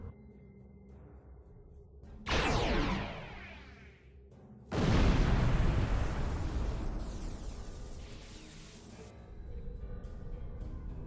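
A nanite torpedo fired at the Undine in the Star Trek Online space game: two heavy, booming blasts with rushing whooshes, the second larger and rumbling on for several seconds.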